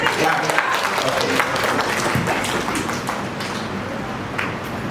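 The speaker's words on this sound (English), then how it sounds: "All of you can give a Clap." A group of court staff trainees clapping together in a training room, a dense, fairly close patter of applause with voices mixed in, steady and then tapering slightly.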